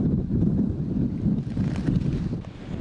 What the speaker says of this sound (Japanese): 猛吹雪となっています。